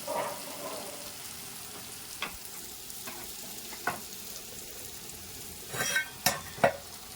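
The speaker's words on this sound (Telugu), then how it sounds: "ఇప్పుడు ఇందులో మనం పెట్టుకున్న చిక్కుడుగాయలు వేసేస్తాం" Broad beans tipped into a hot pan and stirred, a soft steady sizzle with a few light scrapes, then louder clatter and scraping strokes near the end.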